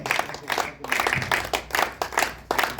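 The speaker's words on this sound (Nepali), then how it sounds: "ताली चाहिँ यो खालको भएन अनि यसमा चाहिँ ताली अर्कै हुन्छ कन्टिन्यू जान्छ" Rhythmic group clapping at a graduation ceremony, arriving as regular bursts roughly twice a second, fairly loud and close, with faint voices underneath.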